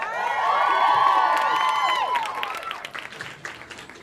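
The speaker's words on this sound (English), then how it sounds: "but how about a round of applause?" Studio audience applauding and cheering for a TV drama cast at an interview event, a loud burst of clapping with whoops that swells early and slowly fades toward the end.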